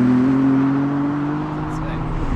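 BMW M4 G82 with a 510-horsepower engine, heard from the cabin as a loud, steady drone with a sustained tone that dips slightly and holds, with a brief higher sound near the end.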